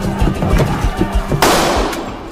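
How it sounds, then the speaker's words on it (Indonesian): A pistol fires in a brutal Korean crime film's gambling scene, sounding as a sharp loud report among repeated thumping impacts and a burst of noisy crackle over about two seconds. "Awalnya, ia memberikan tembakan yang pertama untuk memecah situasi."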